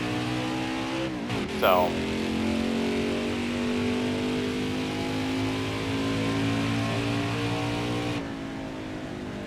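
A NASCAR truck engine roars steadily in NASCAR Heat 5, a loud sustained racing drone with a brief rising rev shift early on, under someone talking.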